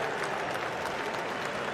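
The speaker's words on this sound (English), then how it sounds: "Lord's crowd greet Steve Smith, who will resume his innings to a great ovation." Cricket crowd at Lord's applauding a returning batsman with a sustained, dense ovation of clapping that stays steady and full throughout.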